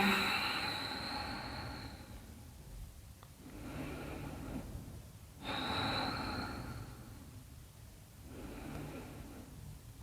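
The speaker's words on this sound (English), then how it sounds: "And then breathing here." Slow, deep breathing during a beginner Hatha yoga practice: two long airy inhale-exhale cycles, soft and close, with quiet pauses between them and no speech.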